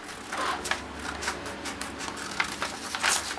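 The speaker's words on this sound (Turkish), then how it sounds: "makasımla keserek" Scissors cut through decoupage paper in a run of short, crisp snips and rustles close by, irregular in rhythm, with no voices.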